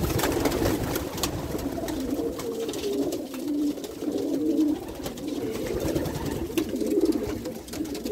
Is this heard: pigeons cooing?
yes